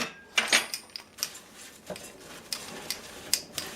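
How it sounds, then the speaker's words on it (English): Salt, cinnamon, nutmeg and allspice being stirred together in a mixing bowl, giving light scattered clinks and scrapes of a utensil against the bowl at an irregular pace, fairly faint and close, with no talking. "Then you just mix this together."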